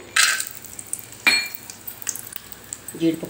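Cashews fry in a spoonful and a half of oil in a large kadai, giving a faint, quiet sizzle broken by a few bright metallic clinks and scrapes of a utensil against the pan.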